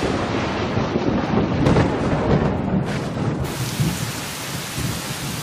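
A June thunderstorm over a forest in Gotjawal, Jeju, with heavy rain pouring steadily and thunder rumbling close and loud at the start before the downpour continues on its own.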